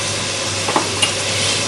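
Garlic sizzling in a hot pot for sweet potato stew, a steady, loud hiss of frying with a couple of brief stirring clinks, no voices.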